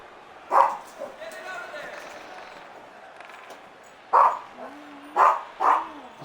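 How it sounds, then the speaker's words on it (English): A dog barks several times, sharp single barks separated by pauses, close by, while someone talks quietly in between. "That's why he's barking."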